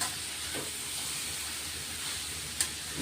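Village okra (bhindi) with garlic stir-fried in a pan, a continuous soft sizzle and hiss with faint stirring scrapes and one brief clink, no voices.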